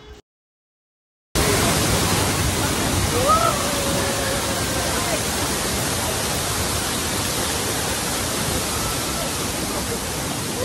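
A water park waterfall at Black Thunder in Coimbatore pours as a dense, steady roar of rushing water, loud and constant after a short silent start, with faint voices barely under the wash.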